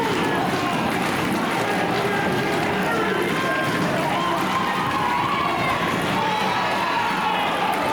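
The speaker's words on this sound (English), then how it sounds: "the crowd rallying behind the Howletts" Wrestling crowd cheering and shouting in an arena for the Howlett tag team, a dense, steady roar throughout with excited commentary voices over it.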